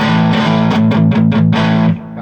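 A heavily distorted Squier Affinity Telecaster electric guitar chord rings out loud and sustained, with a few rhythmic palm-muted chugs before it cuts off.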